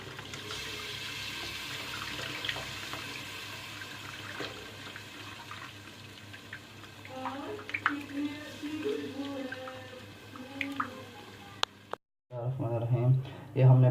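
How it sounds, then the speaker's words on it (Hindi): Water from a tap pours steadily into a pot of strained yogurt for karri pakora in a home kitchen, a continuous splashing wash that cuts off near the end, with a voice talking over it. "ये हमने पानी इसमें ऐड कर दिया है।"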